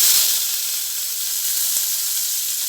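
Mustard seeds, fenugreek and chopped onion fry in hot oil, giving a loud, continuous sizzle and hiss up close with no break.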